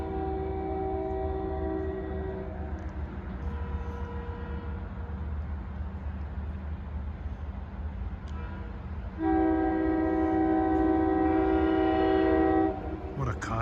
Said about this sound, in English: That sick horn is from 2325.